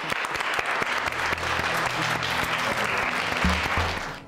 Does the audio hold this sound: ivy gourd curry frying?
no